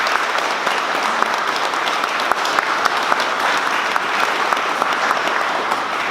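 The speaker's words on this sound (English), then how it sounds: "Would you please join me in a round of applause for the town's employee team." A crowd applauds at a fire station ribbon cutting ceremony, dense continuous clapping that holds steady and loud throughout.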